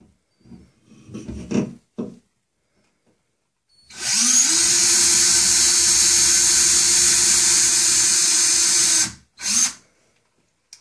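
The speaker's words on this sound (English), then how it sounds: "You're also going to take the drill and you're going to hold it up to your hole." A loud electric drill whirs steadily for about five seconds, driving a screw into a wall, with brief handling noises before and a short burst after.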